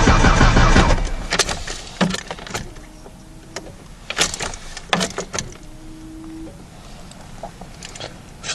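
A 2018 Ford Ranger's starter cranks during a cold start in two separate bursts, each a steady mechanical whir lasting about a second and a half, with clicks and clunks around them.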